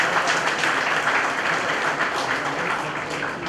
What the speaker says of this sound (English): Just give us a big round of applause.